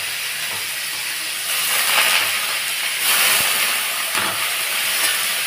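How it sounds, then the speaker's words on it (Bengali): Bottle gourd peels hit hot oil with dried chillies and nigella seeds, a loud broad sizzle that swells after a moment and keeps hissing steadily, close up and without talk. "এইবার আমি এর মধ্যে এই লাউয়ের খোসাগুলো দিয়ে দিচ্ছি।"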